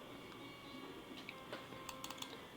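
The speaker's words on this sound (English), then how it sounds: "so then I have to retype it again" Typing on a computer keyboard, a short run of light, irregular clicks close by over a steady low background hum, entering dimensions in a graphic design program.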